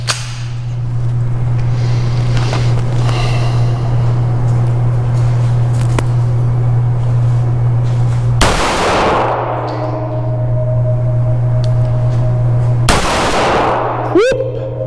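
A classic Browning Hi-Power 9mm pistol fired at a target seven yards away: two sharp, loud cracks several seconds apart over a steady low hum, the second followed by a brief metallic ring.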